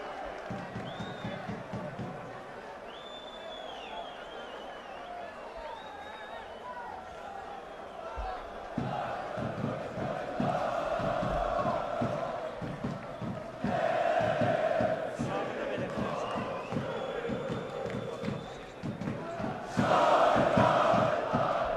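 Neftci Baku supporters and footballers celebrating in a stadium: a broad roar of crowd noise and cheering swells in waves beneath a commentator talking throughout.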